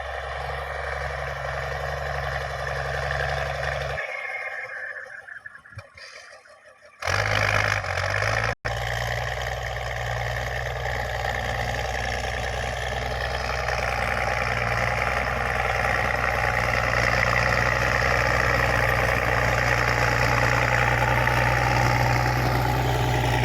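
A tractor engine runs steadily in a flooded rice field during sowing, a loud continuous drone that drops out briefly, then returns and holds at a constant level.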